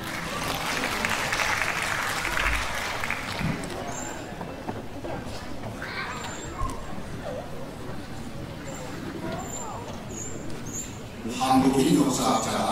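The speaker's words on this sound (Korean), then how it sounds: "여러분 큰 박수 부탁드립니다." Audience applause at a Korean-language speech contest, a moderate crowd clapping at the start and swelling again near the end, with a speaker's voice and room murmur in between.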